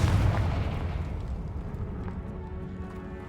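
A Confringo blasting spell in Hogwarts Legacy lands as one loud, deep explosive boom at the start, then rumbles and fades away over a few seconds with no voice over it.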